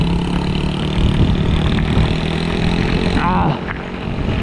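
Mini quad engine running close by, a steady buzzing drone that dips slightly near the end, with no clear speech over it.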